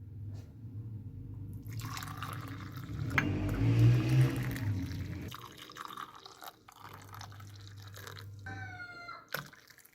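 Kashmiri pink chai is poured into a cup, making a close, continuous liquid stream that swells and then trickles off, with faint background noise and no talking.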